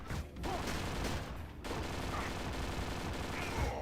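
A light SMG firing rapidly in the video game Dead to Rights: Reckoning, dense fast bursts of gunfire over game noise, with a short pause before the shooting resumes.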